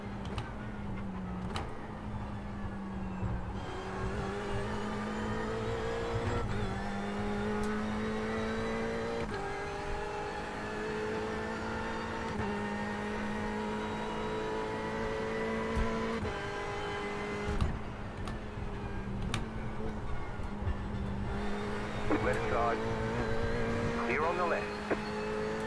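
A Ferrari race car engine drones steadily in the video game iRacing, its pitch climbing and dropping through gear shifts, with a voice talking faintly underneath.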